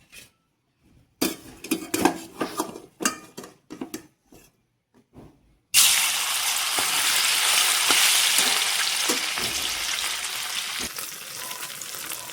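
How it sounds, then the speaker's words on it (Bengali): Small turmeric-and-salt-rubbed fish dropped into hot oil, first some clinks and knocks of a pan and utensils, then a loud, steady frying sizzle that fills the last half close by, with no talk. "তেল গরম হয়ে গেছে, মাছটা ভেজে নিব।"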